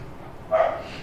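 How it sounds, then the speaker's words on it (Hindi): A single short dog bark sounds from a moderate distance behind a quiet indoor background during a maths lecture, lasting well under a second. "डॉगों को उसी समय भौंकना होता है जिस समय यहाँ बैठा होगा"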